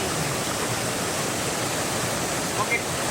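Curug Cikawah waterfall in Bogor roars as a steady, dense wash of falling water, loud and unbroken from start to finish with no distinct events standing out.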